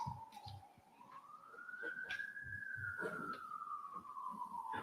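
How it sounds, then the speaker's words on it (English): An ambulance or fire engine siren sweeps up and falls back down as it passes at a moderate distance outside. A courtroom hums with faint background noise, and no one speaks over the wail. "We hear ambulances and fire engines going by every day, many times during the day."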